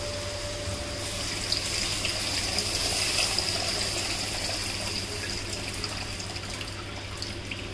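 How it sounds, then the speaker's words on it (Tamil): Tamarind water pouring into a pan of shark fish curry, a steady wet gush and trickle of liquid running for several seconds, moderately near with a faint constant background hum. "இப்போ புளி ஊற்றிக்கலாம்"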